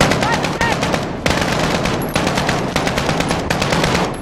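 Sustained automatic machine gun fire in the Call of Duty Modern Warfare campaign, loud, dense rapid bursts with brief breaks, close and dominating, no speech.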